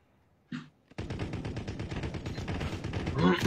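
Rapid automatic gunfire in the Call of Duty Warzone Plunder mode, a single shot followed by a long sustained burst of fast, evenly spaced rounds, loud and close, with a faint voice briefly under it.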